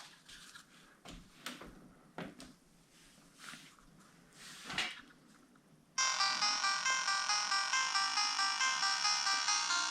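After a few soft clicks and handling noises, a bright electronic tone sequence bursts in and carries on steadily, loud and close, like a device starting up: the Traumatarium Penitent game cartridge booting on a ModRetro Chromatic handheld.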